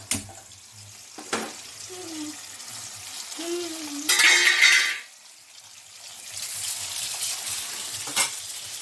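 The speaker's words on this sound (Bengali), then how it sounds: "মাছ ভাজা বসিয়ে দিলাম।" Fish fries in oil in a home kitchen, with a soft, steady sizzle that rises into a brief louder spatter midway, broken by a few clinks and low background sounds.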